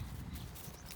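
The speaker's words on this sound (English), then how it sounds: "We are on horses." Horses walk on a trail ride at a horse farm, their faint hoof clops muffled under a steady outdoor hiss.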